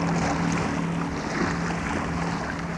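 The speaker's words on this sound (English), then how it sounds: "a continuous background of noise, the sound of the propellers of the logging boats making their way to the sawmills" Propellers of logging boats churning through the water, a continuous low droning hum with steady wash and rumble, unchanging throughout.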